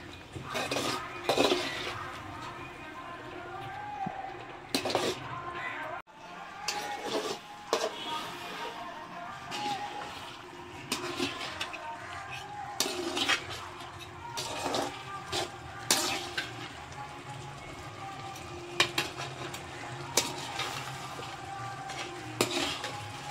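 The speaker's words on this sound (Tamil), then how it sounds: "இந்த மீன் வந்து நல்லா வதங்கணும் இந்த மசாலா கூட சேர்ந்து" Thirukkai fish sautés with masala in a pan, a soft sizzle beneath repeated scraping and clinking of a spatula against the metal, irregular stirring strokes continuing throughout, with occasional brief speech.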